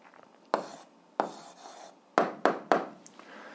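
Pen strokes on paper while a maths answer is written down, a few short scratchy bursts close up, separated by brief pauses, quiet and alone.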